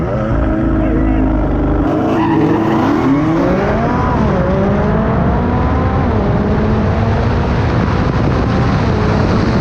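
A Dodge Hellcat drifts sideways from the staging lanes of a drag strip, its engine roaring loud and close with rising, sweeping pitch and strained tire noise throughout, while voices talk over it.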